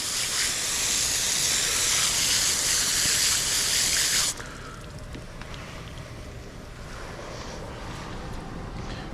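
Chunks of fish are rinsed under running water, a steady bright hiss of the stream that cuts off abruptly halfway through, leaving quieter dribbling and faint handling noises.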